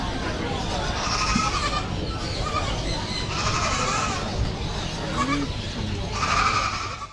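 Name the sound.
goats bleating at animal market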